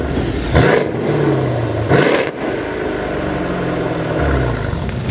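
An 800-horsepower Mercedes E63 AMG drives with a steady engine drone and road roar, rising briefly in two louder surges with traction control on, heard alone without talk.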